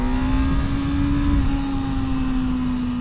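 A Honda CBR600F4i inline-four sport bike engine holds a steady, high-pitched rev with a strong sustained whine over a rough low drone, loud and close, no talk.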